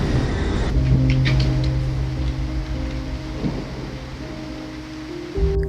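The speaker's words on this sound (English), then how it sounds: "this huge thunderstorm was coming" Heavy rain from a big thunderstorm rolling in over a Florida state park, heard by a cyclist as a steady broadband roar with low tonal hum and a faint rumble, continuous throughout.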